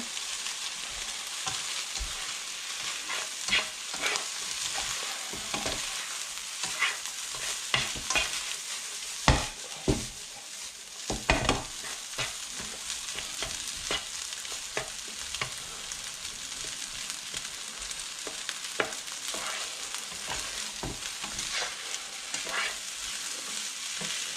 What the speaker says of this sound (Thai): ก็ตามด้วยซีอิ๊วขาวค่ะ แล้วเราก็ผัดให้เขาเข้ากันนะคะ